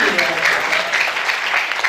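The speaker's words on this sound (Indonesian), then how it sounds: "Kita beri tepuk tangan untuk Bu Bira dan Pak Humaydi." Crowd applause at a student achievement and awards event: a short, continuous burst of many hands clapping, loud and even, with no pause.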